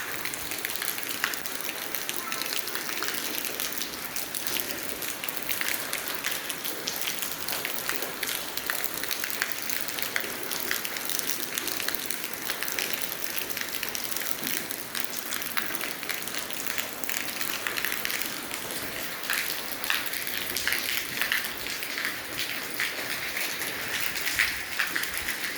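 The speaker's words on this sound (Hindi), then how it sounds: "खूबसूरत बारिश।" Rain falls steadily in upper Dir, Khyber Pakhtunkhwa, Pakistan, a dense, even patter and hiss on surfaces that goes on without a break, with no voices.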